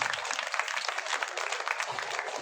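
An audience at a foundation day event in Shahbad Dairy applauds for children, a dense, steady wash of many hands clapping throughout.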